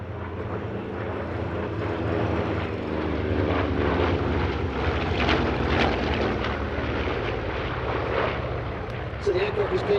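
A navy fighter warbird with a piston propeller engine passes an airshow crowd, its roar building and holding loud and close. Spoken commentary runs underneath the engine noise.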